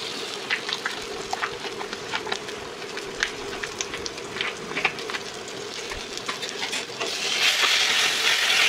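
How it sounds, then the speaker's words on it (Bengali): Ground spice paste sizzles and fries steadily in hot oil already used for frying fish, a dense close crackle with occasional stirring, swelling louder near the end, for a Bengali katla fish curry. "এই মশলাটা ভালো করে তেলে কষাতে হবে যতক্ষণ না মশলা থেকে তেল ছাড়বে।"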